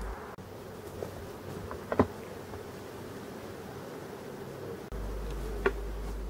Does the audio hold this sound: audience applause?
no